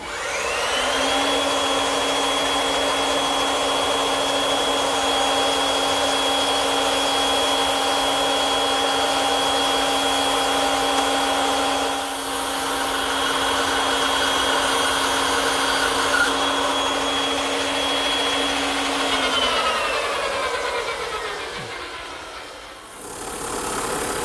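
A bandsaw fitted with a 1/4 inch blade cuts tight radius curves in wood, giving a steady, loud motor whine that holds for about twenty seconds before winding down to near silence.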